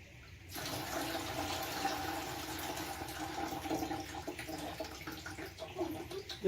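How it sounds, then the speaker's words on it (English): Water pours and splashes steadily over sprouting fodder grain as it is rinsed, a continuous close rushing sound from start to end. "I'm going to rinse this one more time."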